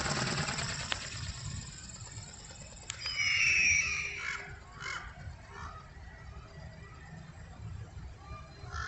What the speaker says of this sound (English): You go bird.